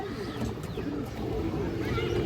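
Pigeons in a market pen cooing softly, low murmuring calls overlapping against faint background noise, close but quiet.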